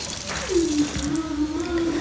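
Tap water runs steadily from a household faucet, a continuous close rushing flow with a faint tonal whine running through it.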